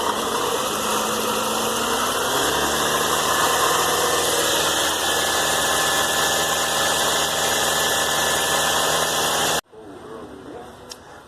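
A car engine revved to about 2,500 RPM during an alternator charging test, a loud, steady close-up roar that holds for several seconds before cutting off abruptly, leaving a quieter idle with faint knocks.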